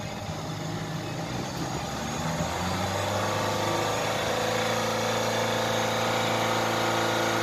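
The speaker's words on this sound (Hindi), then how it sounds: "थोड़ा सा एक बार और रेस दो" A Ford Figo diesel engine burning oil and smoking, running steadily and loud, its rough drone building a little as the throttle is blipped, then holding at a raised, even pitch.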